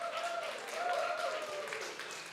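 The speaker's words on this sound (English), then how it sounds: "Let's give them a round of applause." Brief applause from an audience at an Astronomy on Tap science talk in San Antonio, Texas, honoring four summer interns from the Southwest Research Institute; steady, moderately faint clapping with some voices mixed in.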